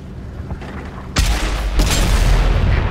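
A tier 5 heavy tank's cannon fires in World of Tanks: two sharp, loud booming blasts about half a second apart, the second followed by a rumbling tail over a low background of battle noise.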